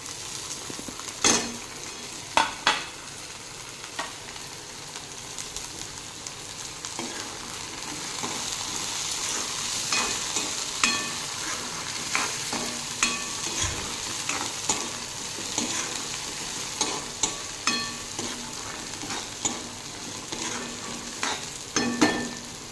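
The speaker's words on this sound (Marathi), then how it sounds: "मी आता ओली मिरची तेलामध्ये छान खरपूस भाजून घेणार आहे" Green chillies fry in hot oil along with garlic, onion and cumin, giving a continuous close sizzle punctuated by frequent sharp spatula clinks and scrapes against the pan; no talking.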